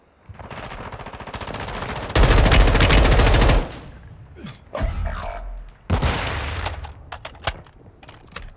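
Bursts of automatic gunfire in Call of Duty: Warzone, with sustained rapid fire peaking loud midway and shorter volleys and single shots following, close and dense.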